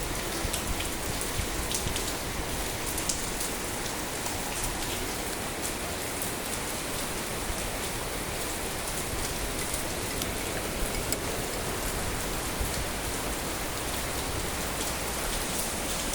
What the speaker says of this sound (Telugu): చాలా దారుణంగా వర్షం పడుతుంది చూడండి